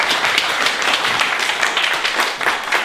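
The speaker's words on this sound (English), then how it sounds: "Let's give a round of applause." Gallery audience at an art exhibition event applauding together, a dense, steady wash of clapping lasting a few seconds at close range, with no talk over it.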